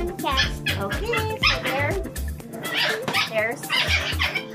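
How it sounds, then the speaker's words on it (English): A puppy barks and yips in short bursts close by, mixed with people talking over it in a busy household. "That's our puppy."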